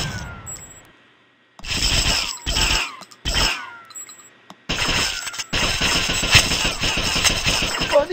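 Rapid automatic gunfire in a hacked Easter bunny-invasion video game: a few short loud bursts separated by pauses, then sustained rattling fire with glassy, shattering impacts, close and dominant.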